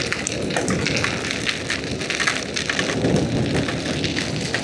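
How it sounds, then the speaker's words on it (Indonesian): Heavy rain pours down on a motorcycle tour of an Indonesian ring road on a Honda Vario 125. A dense, steady hiss of drops beats on surfaces close by, with no talking. "Wah, luar biasa hujannya teman-teman."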